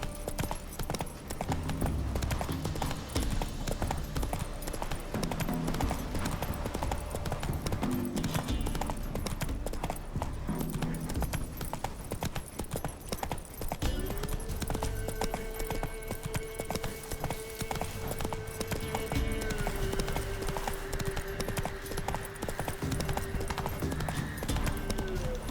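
Roach the horse galloping in The Witcher 3: a steady, fast clip-clop of hooves runs continuously under game music and ambience, close and prominent throughout.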